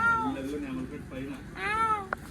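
A person's voice imitating a cat, with several drawn-out, wavering meows in quick succession, close and fairly loud.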